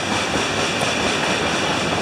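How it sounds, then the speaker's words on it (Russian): A train passes near a parked motorcycle: a loud, continuous rumble and rattle of rolling rail cars that holds steady throughout, with no talk over it. "вот другого времени не нашли, чтобы на поезде здесь покататься, да?"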